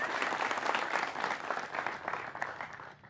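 Villagers in a Rajasthan village applaud to welcome an independent election candidate, a steady crowd of clapping hands, moderately distant, fading slightly at the end, with no speech over it.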